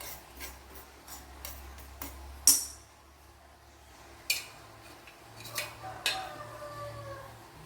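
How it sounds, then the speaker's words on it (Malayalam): Faint, scattered pops and crackles of fennel seeds roasting in a dry pan, irregular sharp clicks over a quiet low hum. "അവിടെ ഇപ്പോൾ പെരുംജീരകമൊക്കെ മൂത്തിട്ടുണ്ട് അവിടെ ഒരു സൗണ്ട് കേൾക്കുന്നുണ്ട്"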